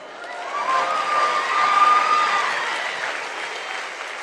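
Steady audience applause fills a large summit hall after a speech, dense clapping that rises to a peak midway and then gently tapers without stopping, with a few faint cheers mixed in.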